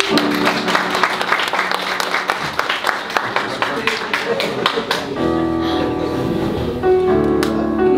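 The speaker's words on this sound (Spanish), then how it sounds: "Un aplauso al Señor para Luis." A church congregation breaks into sustained applause, dense clapping that carries on for several seconds before fading into a murmur of voices and sparse claps.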